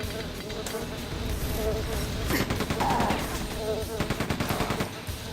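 A gunner enemy firing in the video game Quake II: rapid machine-gun bursts with sharp repeated shots over steady game ambience, fairly loud, with a few quick volleys near the end.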